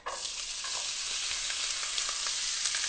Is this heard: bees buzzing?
no